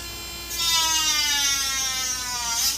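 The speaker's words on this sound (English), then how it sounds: "This is a hyper tough rotary tool." A Hyper Tough rotary tool spins up and runs with a steady, loud, high-pitched whine, its pitch rising then holding, briefly dipping at the end, with no talk.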